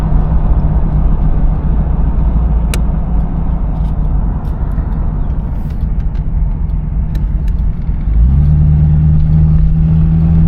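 A 1981 Cadillac Eldorado drives along smoothly, heard from inside the cabin as a steady low engine and road hum that shifts slightly in pitch near the end.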